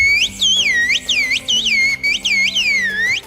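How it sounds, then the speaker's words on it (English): A piercing, clear whistled language sounds as a loud, rapid series of rising and falling pitch swoops, in short phrases with brief pauses, alone and close. "Whistled language."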